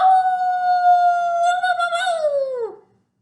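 A human voice imitates a long coyote howl, holding a steady pitch before wavering and sliding down to silence, loud and close.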